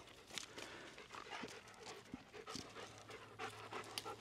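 A dog pants rapidly and rhythmically close by, quiet breathy huffs repeating throughout with faint outdoor sounds.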